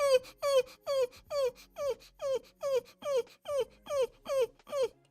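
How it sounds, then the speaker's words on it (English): A Pomsky dog whines in a steady series of about a dozen rising, drawn-out cries, each repeated at an even pace, loud and close, with no other sounds. "He probably saw another dog, which is why he's whining."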